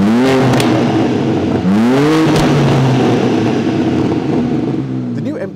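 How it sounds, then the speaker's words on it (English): A 2023 BMW M2's exhaust, from a 3-liter inline six, roars loudly as the engine revs up and down in several rising sweeps, close and aggressive, ending with crackles and pops. "Let's take a listen to the exhaust sound of the all-new BMW M2."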